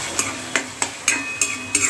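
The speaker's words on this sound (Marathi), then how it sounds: "हे चांगलं ब्राऊन कलर येईपर्यंत आपल्याला कांदा भाजून घ्यायचा आहे" Onion frying in a pan for a dried-fish and egg curry, heard as a steady sizzle punctuated by regular sharp scraping taps of a spoon stirring against the pan, about five evenly spaced strokes, close and fairly loud.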